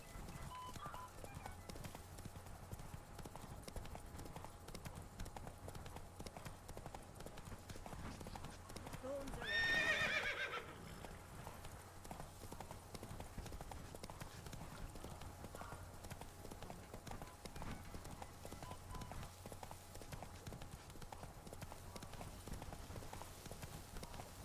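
Geralt's horse Roach from The Witcher 3 trots with steady clip-clop hoofbeats throughout, with a short louder burst of whinnying near the middle, all beneath a constant low background hum.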